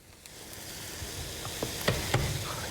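Garlic cloves dropping into a pan of softened onions and mushrooms for Salisbury steak, with a steady sizzle and a few scraping stirs and clinks rising over it, close and moderately loud, no voices.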